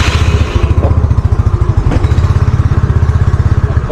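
A motorcycle engine idles or runs close by, loud, with a rapid, steady pulsing chug and some mechanical clatter, and no talking over it.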